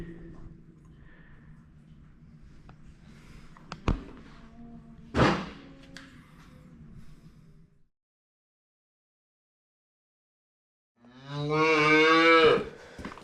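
A farm calf gives one clear, drawn-out moo near the end, preceded by quiet barn rumble, a couple of sharp thumps and a stretch of near silence; close and moderately loud, no talking.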